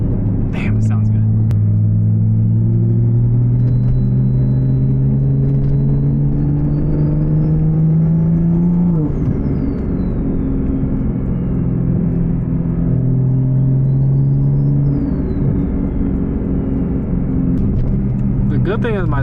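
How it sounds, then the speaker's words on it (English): A stock B58 turbo engine with a T51R sound mod pulls in a car, a loud close drone rising steadily in pitch through two long accelerations with a faint turbo whistle, while someone talks throughout. "mine is a stock B58 turbo with a T51R mod. Doesn't do nothing performance wise, just purely sound."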